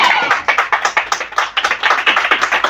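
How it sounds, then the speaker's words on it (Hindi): A church congregation claps together in worship, a quick, rhythmic run of hand claps that rings out loudly and steadily without pause. "मिलके तालियां जलाल के लिए, खुदा के जलाल के लिए"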